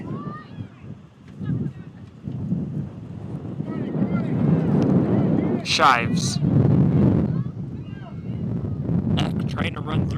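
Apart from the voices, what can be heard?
gusting wind on microphone at outdoor soccer match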